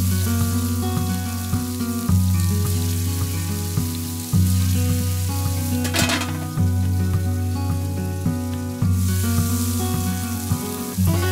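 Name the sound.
ostrich fillet frying in a pan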